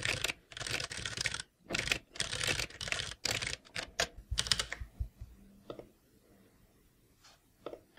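Computer keyboard typing for a journal entry in the Roam app, fast bursts of close, crisp key clicks that pause briefly between runs, then thin out to a few scattered taps.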